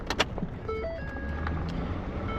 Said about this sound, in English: So we're at a spot where we gotta turn the truck on.